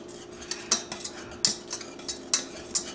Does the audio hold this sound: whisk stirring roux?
yes